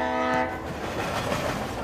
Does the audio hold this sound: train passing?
yes